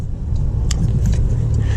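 A Porsche 992 S with a manual gearbox drives on open roads, engine rumbling loud and close inside the cabin with a brief rise and dip, along with a few small clicks.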